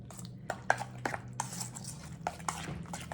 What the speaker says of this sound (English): I'm gonna give it another stir or two.